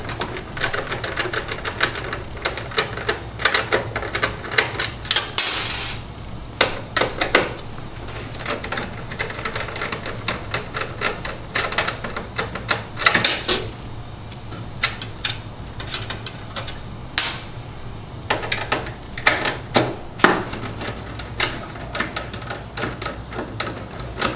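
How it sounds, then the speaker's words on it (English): A 3/8-inch nut driver removing hex nuts from the element retaining bracket of a Star roller grill, producing rapid metallic clicking and ratcheting ticks in irregular bursts, close and fairly loud throughout. "Using a 3/8" nut driver, remove the hex nuts holding the element retaining bracket"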